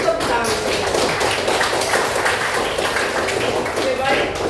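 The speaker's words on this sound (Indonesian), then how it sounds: "Tepuk tangan." Hands clap together in a classroom as a group of students applauds, a dense, fairly loud patter of claps running evenly throughout.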